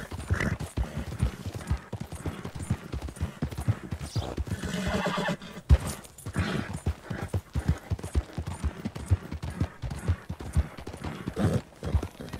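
In Red Dead Redemption 2, a horse whinnies loudly while its hooves clip-clop in a steady rhythm on the ground, with game ambience and a brief mid-clip rush of wind or motion noise.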